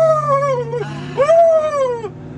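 Dogs howling close by, two long rising-and-falling howls separated by a short break, loud and clear with a faint whimpering edge.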